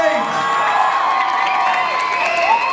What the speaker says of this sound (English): Another round of applause for all the beautiful ladies on stage.